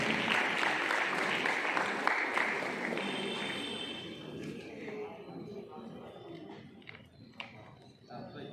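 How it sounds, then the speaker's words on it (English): Applause for a girls' under-19 cricket team being honoured as champions at an award ceremony, a steady crowd clapping that is loudest at the start and slowly thins out, with voices mixed in. "Big round of applause for the champions."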